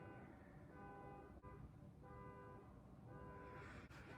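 A car horn sounds from outside in repeated tonal honks, muffled and distant, coming in several separate bursts over a low background rumble.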